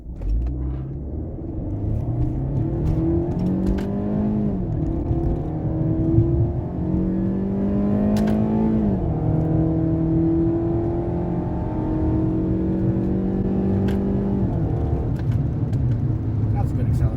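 A Fiat 500 with a manual gearbox pulls hard through the gears, its engine tone climbing, dropping at each shift and climbing again in a steady rising drone, close by and moderately loud, with cabin rumble underneath.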